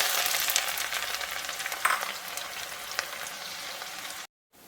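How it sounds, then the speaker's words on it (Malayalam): Garlic sizzles and crackles in hot oil with spluttering mustard seeds for a mango pickle, a steady close frying hiss with a brief louder burst before a short cutoff near the end. "നമ്മുടെ വെളുത്തുള്ളി ഇട്ട് കൊടുക്കാം."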